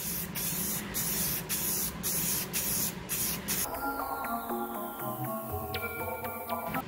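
An aerosol can sprays a primer coat onto plastic with a loud, continuous hiss. The spray pauses briefly a few times, then cuts off partway through, leaving a quieter stretch with faint tonal sounds.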